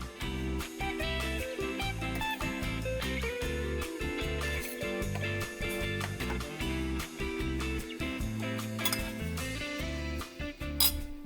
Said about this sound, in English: I'm just going to serve me a small bowl and give it a try.